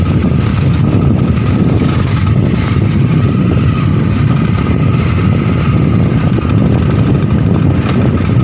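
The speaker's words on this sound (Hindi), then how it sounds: "चल रहे हैं बाइक से अंदर" A motorcycle rides slowly into the grounds of an old royal residence in Pratapgarh, passing under trees, its engine a loud, steady, close drone throughout with no break and no talking.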